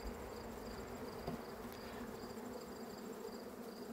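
Honeybees buzz densely around a nucleus hive while searching for its entrance, a steady close hum of many wings without pause.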